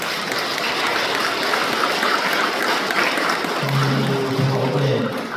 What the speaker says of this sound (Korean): 우리 단원들 잘 하시라고 박수 한번 쳐주세요.